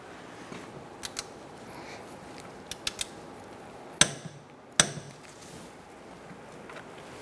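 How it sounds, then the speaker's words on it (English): A torque wrench tightens the rear upper control arm on a 2004-2009 Mazda 3, with faint scattered tool taps followed by two sharp, distinct clicks less than a second apart. "Okay, and now we'll torque the other side."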